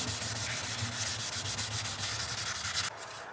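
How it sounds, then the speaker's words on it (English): Sandpaper rubs back and forth on an interior trim panel during repair, with rapid, rhythmic strokes close by that run steadily for about three seconds before stopping abruptly. "you can at this stage use the wet sandpaper on this panel"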